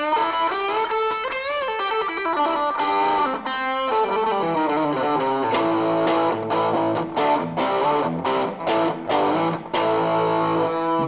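A heavily distorted electric guitar plays sustained chords and riffs through an amplifier, loud and gritty, with no one speaking.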